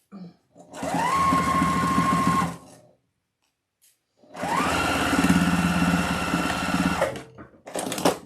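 Sewing machine stitching a wreath attachment for an ice skating elf decoration, running in two long steady bursts of fast rhythmic whirring with a short pause between, loud and close, with a brief start of a third run at the end.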